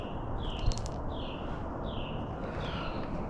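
Several birds chirp in short, repeated tweets somewhere in the background, small and distant over a constant low outdoor rumble.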